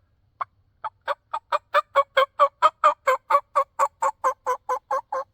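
A turkey call imitates a gobbler with a run of about nineteen rapid, evenly spaced yelping notes that build in loudness and then hold steady, close and alone.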